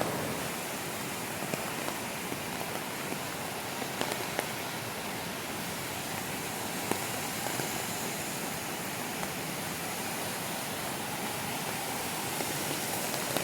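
Steady rain falls on the Gatlinburg Trail in the Great Smoky Mountains, a constant even hiss with scattered faint drips and no voices.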